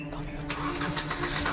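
A car engine turns over and catches, then settles into a steady rumbling idle, heard close and fairly loud, with faint voices in the background.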